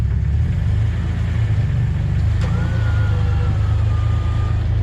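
Off-road truck engine rumbling low and steady on a rough Colorado trail, a constant heavy drone with a faint whine rising over it midway, loud and close throughout.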